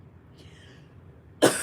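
A woman gives one sudden, sharp cough near the end after a quiet stretch.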